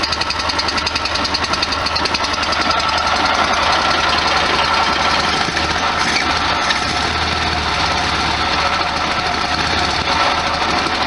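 Air-cooled engine of a 1973 VW Super Beetle idling steadily, a close, loud, rapid chattering throb that holds even and unbroken throughout.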